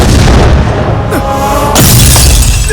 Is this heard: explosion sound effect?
yes